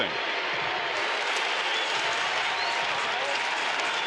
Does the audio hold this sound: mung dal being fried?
no